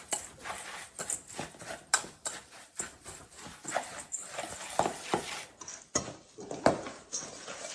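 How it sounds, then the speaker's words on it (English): Oat cookie ingredients being whisked together in a bowl, a quiet, steady run of light rhythmic clicks and taps from the whisk with no talk. "we're going to mix them or whisk them together"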